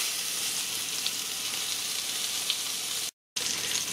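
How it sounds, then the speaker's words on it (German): A floured salmon fillet fries in hot olive oil in a pan, giving a steady, close, dense sizzle that breaks off briefly near the end and then resumes. "werde den Lachs jetzt langsam mit der bemehlten Seite zuerst die Pfanne einlegen und braten"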